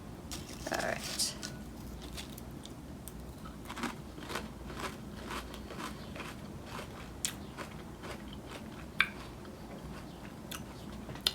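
Lay's dill pickle and white cheddar chips crunched and chewed up close, with a steady run of crisp crackling bites and chewing over a low background hum.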